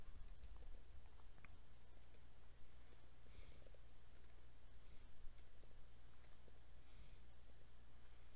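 Mouse clicks on a computer while working in the Microsoft Mix classroom tool: a few faint, sparse clicks over a steady low hum, with no talking.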